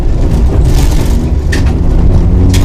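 A Mitsubishi Evo rally car runs downhill on a rally stage, its engine a loud, steady rumble heard from close by, with a few brief sharper bursts as it brakes into a corner.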